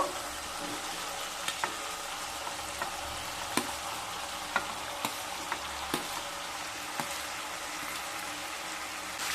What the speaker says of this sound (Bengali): এবার ভেজে রাখা কুমড়োগুলোকে দিয়ে দেব।